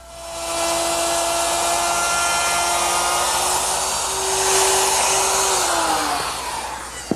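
A power tool, likely a router, cuts a dado for the bottom shelf of an armoire entertainment center, a loud steady whine running nearly seven seconds that climbs slightly in pitch near the end and then winds down.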